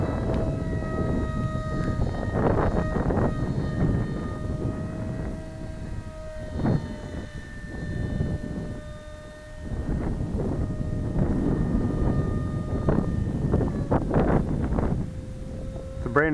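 A blue foam RC F-22 plane with a brand-new electric motor flies outdoors on a windy day, its whining motor tone rising and falling continuously beneath heavy wind buffeting on the microphone.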